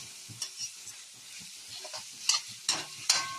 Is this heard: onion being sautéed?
yes